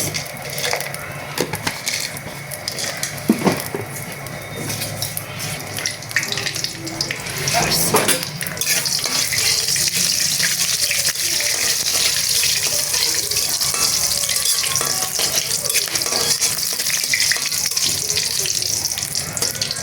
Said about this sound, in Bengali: পেঁপে আলুগুলোকেও আমি মাংসের মতো ভেজে নেব।